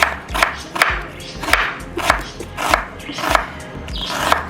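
Knife chopping an onion on a board at home, about nine steady thuds in an even rhythm, close and fairly loud with no talking.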